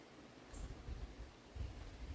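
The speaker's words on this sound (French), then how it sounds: "Le vent se lève." Low, steady rushing wind rising before a storm, with gusty swells, faint and distant-sounding, air moving outdoors with no voices.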